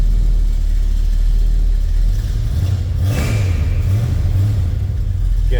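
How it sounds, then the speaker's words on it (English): A 1950 Dodge Business Coupe street rod with a rebuilt 360 V8 and headers runs loud and close, a deep rumbling idle rising into a sharp rev midway before settling back to a throaty burble. "This baby fires up every time I hit that key. Boom, 360 V8 takes off."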